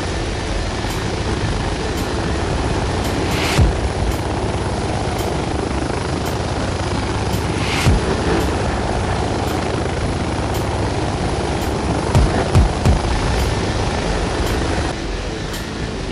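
A helicopter arrives in the military video game Project Reality, its steady loud rotor drone continuous throughout with a few brief clicks and thumps on top.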